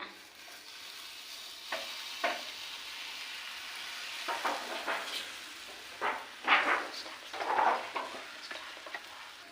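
Puran poli frying on an oiled tava, a soft steady sizzle with scattered crackling bursts and spatula scrapes, close and moderately quiet, no voices.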